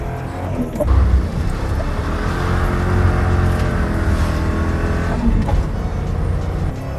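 The engine of a 2003 Mercury Grand Marquis, converted to a five-speed manual, hums loudly and steadily from close by, rising in a couple of gentle revving swells.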